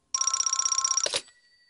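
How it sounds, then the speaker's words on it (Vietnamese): A telephone rings in a Doraemon cartoon scene, a loud electronic bell trill lasting about a second before cutting off abruptly with a short clatter as it is picked up. "Ồ, điện thoại."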